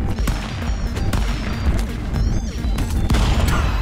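Gunfire in the stick-figure brawler Stick Fight: The Game, a dense clatter of shots, thuds and crashes piling up continuously at close range with no clear pauses.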